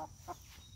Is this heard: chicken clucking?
yes